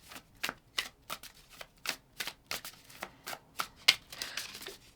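Oracle cards are shuffled in a steady run of crisp, riffling flicks, a dozen or so quick soft bursts close by and fairly quiet, with no talking.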